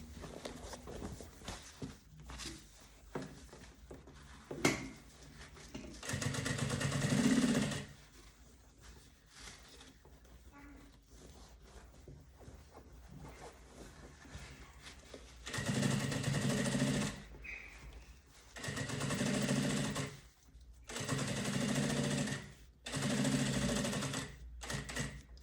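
A sewing machine sewing the finishing seam on a Saudade suitcase, running in several short loud bursts separated by quieter stretches of handling and fabric rustle.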